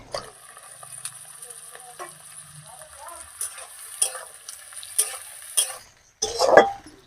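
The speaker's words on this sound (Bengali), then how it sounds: "বেগুন চিংড়ি মাছ আর আলুটা একটু কষা হোক" Eggplant, potato and shrimp fry in a pan with a soft sizzle, broken by close stirring scrapes and clinks of a utensil against the pan, ending in a louder burst of clatter.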